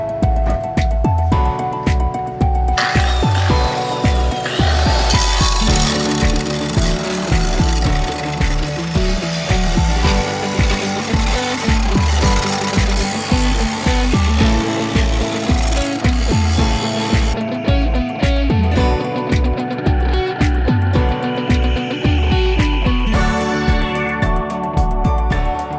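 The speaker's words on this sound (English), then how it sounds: "Love the grinder." A grinder working on a BMW E30 M3 engine bay during shaving, a loud, continuous metallic whine with rhythmic pulsing and clattering as the tool is pushed against the metal, close and unbroken.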